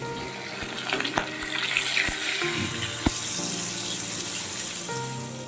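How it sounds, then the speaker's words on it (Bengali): Fish rubbed with salt and turmeric frying in a pan, a steady sizzle with water-like hiss, occasional sharp clinks and taps of a utensil against the pan, no talking. "মাছটা দেখো আমি ধুয়ে এনে নুন হলুদ মাখিয়ে ভাজা বসিয়ে দিচ্ছি"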